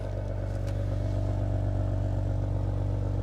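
A Maserati car engine idles with a deep, steady throbbing rumble, close by and continuous, with no talking over it.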